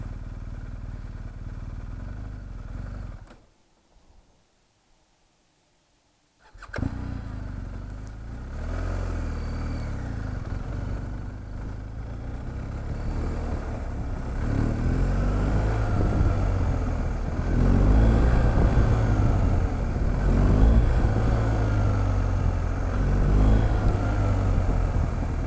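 Motorcycle engine revving and surging continuously during wheelie practice, close and loud with rising and falling throttle, briefly cutting out before picking back up and climbing.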